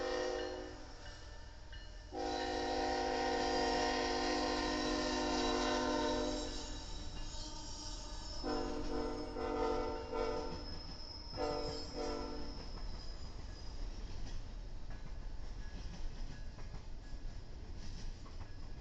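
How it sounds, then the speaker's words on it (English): An Iowa Interstate train and a CSX intermodal freight train meet at an over-and-under crossing: loud horn blasts sound over continuous rumbling rail noise and wheel clatter. "we see an over and under meet between Iowa Interstate and a CSX intermodal train"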